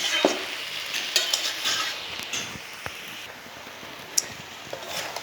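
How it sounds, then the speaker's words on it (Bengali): Mixed vegetables cooking in masala in a pan without water, with a soft steady sizzle and repeated spatula scrapes and light clicks against the pan, close and unaccompanied by talk. "এই দেখুন বন্ধুরা, মশলাটা এই দেখুন কীভাবে কষা হচ্ছে।"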